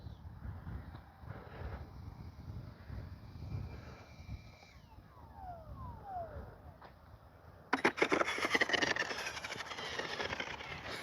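An Arrows Avanti S 50mm RC park jet on its ducted fan, flying near full throttle: a steady whine that sweeps down in pitch as it passes, then a sudden loud, harsh broadband roar as it closes in.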